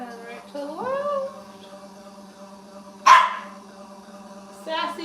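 A dog lets out a single sharp bark near the middle, loud and close, with a short yip-like sound earlier and another brief bark near the end over a steady indoor hum and music.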